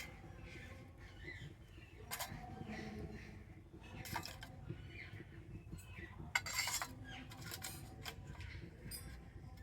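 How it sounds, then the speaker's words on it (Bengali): Steel bowls are set down one after another onto a steel plate inside a steamer, giving a series of light metallic clinks and taps over a quiet background. "আর এই থালার উপর এবারে বাটিগুলো নিয়ে দিয়ে দেব"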